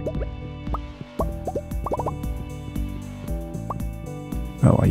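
Cinder shards splashing into water in Stardew Valley, a quick run of bright plopping drips over game music, ending in a louder splash.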